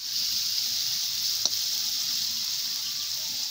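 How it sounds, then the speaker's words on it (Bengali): Beans and vegetables frying for fried rice give a steady bright hiss of oil. The sizzle stays even and close throughout, and one faint tap of a utensil breaks it midway. "ফ্রাইড রাইসের জন্য বিনস মা চাপিয়ে দিচ্ছে, এগুলো ভেজে রাখবে সবজিগুলো"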